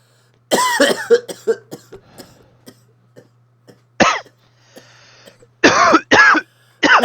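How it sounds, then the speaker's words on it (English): Loud, close coughing in several harsh fits, with a short burst of throat clearing and quiet pauses between the outbursts. "Cough, cough, cough."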